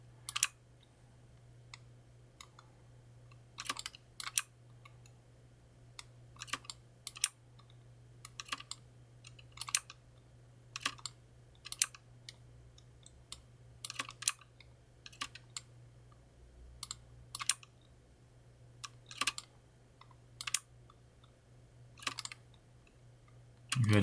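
Keys on a computer keyboard are pressed in scattered single clicks and short bursts while 3D modelling software is in use, close and crisp over a faint steady hum.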